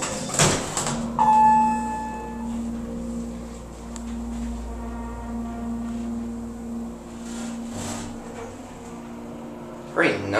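A Westinghouse hydraulic elevator modernized by Schindler in a department store, its doors sliding with a low rumble and a steady mechanical hum, with a chime tone, faint voices and a thud as the doors finish.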